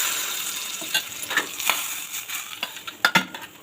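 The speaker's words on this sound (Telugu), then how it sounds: "పప్పు అయితే పోపు పెట్టేస్తున్నాను ఫ్రెండ్స్." Spices crackling and popping in hot oil as tempering for dal, with a clatter of utensils against the pan; sharp, irregular sputters and clinks sound close by over a steady sizzle, with no talking.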